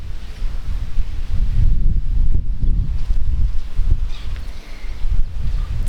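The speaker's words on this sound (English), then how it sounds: "It's getting super windy." Strong wind outdoors in the Portuguese countryside in August, buffeting the microphone with a loud, continuous low rumble that swells and dips in gusts, with faint rustling underneath.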